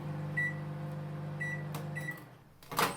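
An LG MC2841SPS microwave oven running a cleaning cycle hums steadily with a low drone, punctuated by a few short high beeps, then a brief clatter near the end.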